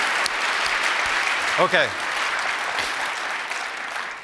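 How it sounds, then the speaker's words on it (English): Audience applause at a business summit keynote, a steady broad wash of clapping throughout with a short spoken word over it. "Let's give those guys a round of applause."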